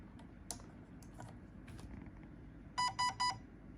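An E&C 337 airsoft electric gun fitted with a Titan Gate electronic board gives three short, bright, evenly spaced electronic beeps after its battery is plugged in, following scattered handling clicks and taps.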